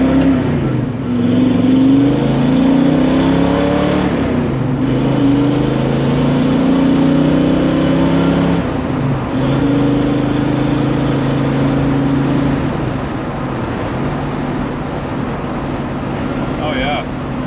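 Ford Mustang engine fitted with a T5 manual transmission, droning steadily at highway cruising speed around 60 mph and low revs, with a shift-like dip in tone partway through and someone talking over it.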